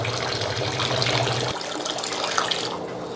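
Water gushes steadily from a tap into a pressure cooker for a few seconds, a broad continuous splashing rush that shifts slightly as the vessel fills.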